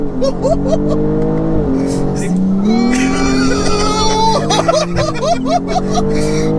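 A 1500 bhp BMW with a B58 engine spins all four wheels, its engine revving hard and steady with squealing tires rising and falling over the top, loud and close, while people talk over it.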